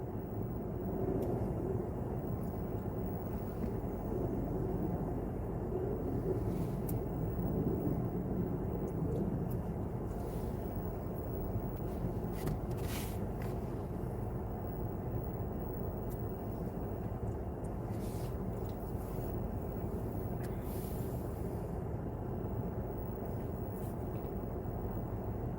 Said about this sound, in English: All I hear is airplanes.